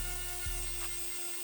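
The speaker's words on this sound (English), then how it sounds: "I'll be using a steel Dremel bit" Dremel rotary tool with a steel bit grinding old glue off a sneaker sole, a steady high whine with a brief low scraping bump as the bit bites, close and alone.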